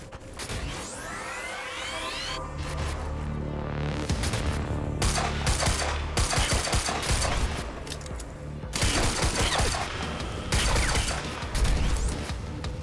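Heavy bursts of gunfire erupt in the video game Quantum Break, volleys of loud cracks separated by brief lulls, layered over droning mechanical tones and crashing impacts.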